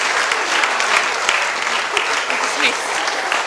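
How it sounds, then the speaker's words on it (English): A group in a church claps in a lively round of applause, dense and continuous for a few seconds, with some voices and cheers mixed into the clapping. "And then I think they need a round of applause, don't you?"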